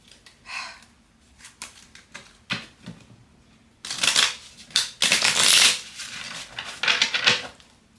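Tarot cards being shuffled in short riffling bursts, quiet at first, then louder and busier with crisp flicks and slaps, close up.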